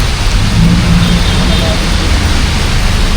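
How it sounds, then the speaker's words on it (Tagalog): Heavy rain pours down at a busway station on EDSA in Mandaluyong, a dense, loud, continuous hiss with low rumbling underneath. "Ang lakas po ng ulan guys."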